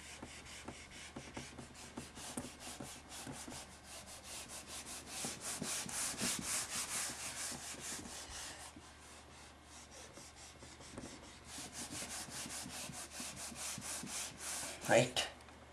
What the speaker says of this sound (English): I'm going to have to rub all of this out